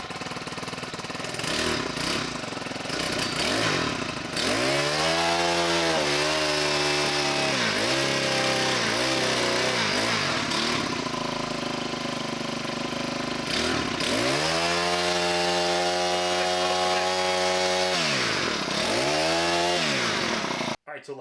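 A restored hedge trimmer's small two-stroke engine runs loud and close, buzzing steadily with repeated revving swells and dips throughout, ending in a sudden stop.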